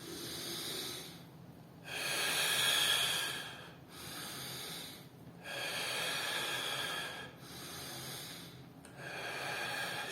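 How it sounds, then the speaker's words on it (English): Slow, deep breaths drawn in through the rib cage, close and alone, with three long hissing inhalations separated by quieter pauses. "So I breathe in through the ribs."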